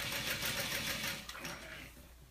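A sewing machine top stitches down both sides of a folded fabric pouch end, its steady mechanical whir running loud and close before slowing and fading near the end.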